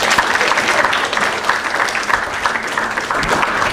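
Sustained audience applause fills a conference hall at an annual conference, dense and steady throughout with no speech over it.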